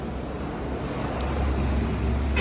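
Wind blows steadily across a high sky bridge, a broad, continuous rushing roar that builds slightly toward the end, with no voices.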